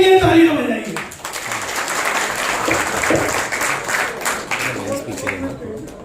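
Members of an imitation jewellery association at their annual meeting clap for themselves, dense sustained applause from a large indoor crowd, with a voice briefly audible at the start.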